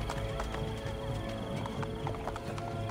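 Horse hooves clip-clop at a steady canter in Assassin's Creed Brotherhood, with occasional whinnies, over a dense, continuous bed of game music and ambience.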